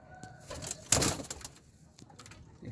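Pet pigeons in their coop on a cold morning, giving soft low coos with a brief flutter of wings in the middle, close by and with no talk over them.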